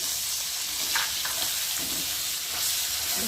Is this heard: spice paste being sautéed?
yes